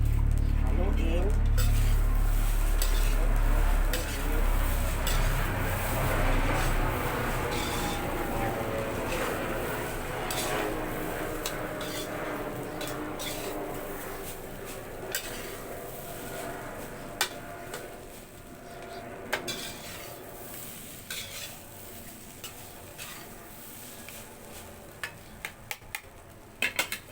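Fried rice (sinangag) with garlic and salt being stirred in a pan, a spatula scraping and clinking against the metal over a soft sizzle, strongest at first and then thinning into sparse clicks.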